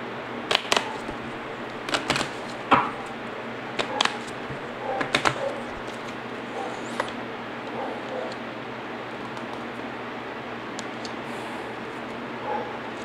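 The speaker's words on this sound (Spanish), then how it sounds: "Vamos a barajar nuestro mazo y vamos a sacar 3 cartas." A tarot card deck is shuffled, giving a cluster of crisp snaps and riffles in the first five seconds, then a few faint card taps over quiet room tone.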